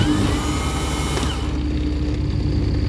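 An engine on the AS-51 aircraft electrical system trainer, loud and steady with a tonal whine that cuts off partway through, leaving a lower rumble running alone.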